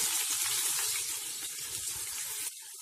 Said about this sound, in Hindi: तेल हमारा गरम हो चुका है, इसमें डालिए 4 मीडियम साइज की बारीक कटी हुई प्याज